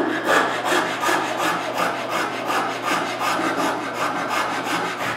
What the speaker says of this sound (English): I fix this with a rasp.